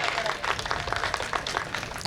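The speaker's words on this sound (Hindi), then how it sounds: "एक बात तालियां बजाइए" An audience at a Hindi poetry recital claps in a brief, dense burst of applause, with voices mixed in.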